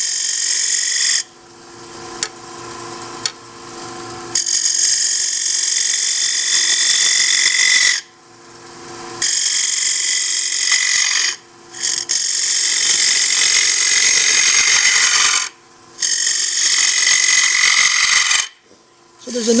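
A bowl gouge cuts a wooden bowl turning on a lathe, giving loud sustained whining and tearing passes broken by short pauses when the tool lifts off, several cuts in a row, close and without talk.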